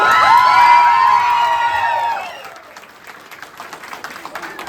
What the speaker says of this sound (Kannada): ಒಂದು ಜೋರಾದ ಚಪ್ಪಾಳೆ ಕೊಡೋಣ